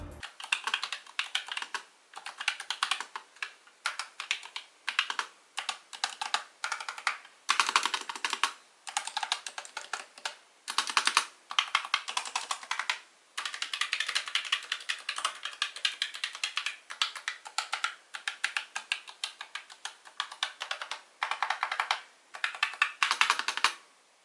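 Steady bursts of typing on an ASUS ROG Claymore 2 gaming keyboard with red optical switches, with dense runs of close, crisp key clicks broken by short pauses and no voices.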